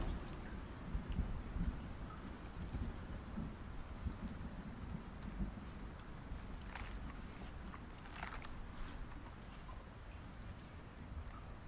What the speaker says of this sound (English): sounds like the storm's almost gone